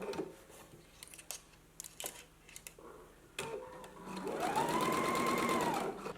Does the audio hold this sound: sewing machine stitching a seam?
yes